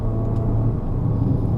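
A Peugeot 3008 SUV on a test drive toward Genting, heard from inside the cabin as a steady, low engine and road drone at moderate volume with no talking.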